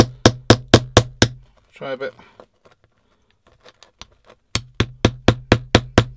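Hammer striking a buried find while metal detecting on a beach, in a quick run of five evenly spaced metallic blows, then a pause with a short spoken remark, then another fast run of hard strikes, all close.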